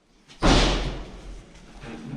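A door slams shut in an abandoned house, a single loud, close bang with a heavy low thud that rings briefly, then a faint rumbling room tail.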